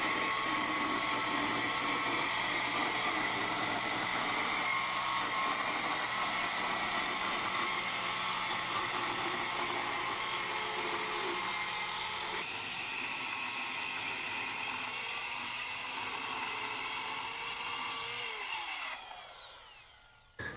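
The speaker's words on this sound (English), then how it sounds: "I've got my circular saw set so that the blade just goes deep enough" A circular saw with its blade set shallow cuts out a damaged, kicked-in wooden door frame, running as a steady loud whine for about nineteen seconds before spinning down, with no talk.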